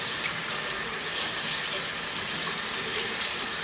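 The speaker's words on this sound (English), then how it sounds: "Just to wash it with cold water couple times" Cold tap water runs into a sink while fresh fenugreek leaves are washed, a steady close gushing and splashing that stays constant throughout, with no talk.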